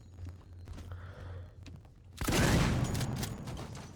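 A loud, close burst of shotgun fire erupts midway through a tense stretch of the survival horror game Alien Isolation, its blast and decaying rumble following a quieter, low ambient hum.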